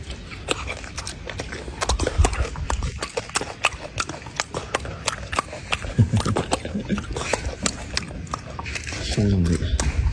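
A golden snub-nosed monkey chews noisily up close, with wet smacking and crunching bites in an irregular rhythm, while people talk over it.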